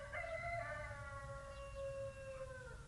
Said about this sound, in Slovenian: tako zgodaj migamo, da smo še peteline zbudili